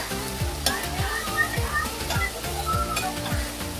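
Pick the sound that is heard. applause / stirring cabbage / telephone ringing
stirring cabbage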